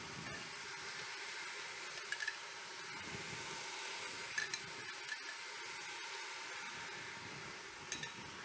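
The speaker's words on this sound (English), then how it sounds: "and now I'm going to sear our chuck roast." Chuck roast sears in a hot pan for a gluten-free, dairy-free pot roast, giving a faint, steady sizzle and hiss with a few small pops and crackles.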